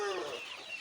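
Aseel chickens out in the rain cluck briefly, a close, faint burst of hen calls over a soft wet background.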